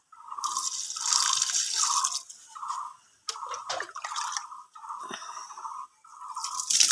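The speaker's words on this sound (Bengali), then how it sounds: "গাছগুলো একটু জল দেওয়া যাক।" Water poured onto dried-out potted flowering plants, dripping and splashing in short bursts with brief pauses, moderately close and with no talking.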